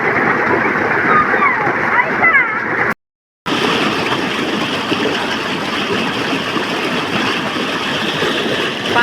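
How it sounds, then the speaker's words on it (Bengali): Water splashes continuously at a hillside waterfall as people bathe, a loud, steady rushing wash broken by one short silent gap, with voices mingling in the noise. "পানিটা কত সুন্দর ছলো ছলো করেছে"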